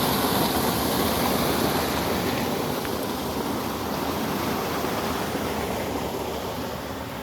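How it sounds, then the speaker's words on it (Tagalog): Water rushes in and out through the water gate of a fishpond, a dense, continuous gushing hiss that stays close and steady, easing slightly toward the end. "Dito mo dumadaan ang tubig palabas at papasok."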